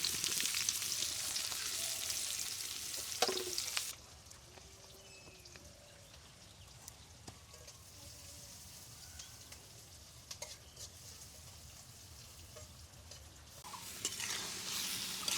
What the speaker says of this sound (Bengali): পেঁয়াজ মরিচ তেল মশলা দেওয়া হয়েছে, সেইগুলো আসলে প্রথমে ভেজে নেওয়া হচ্ছে।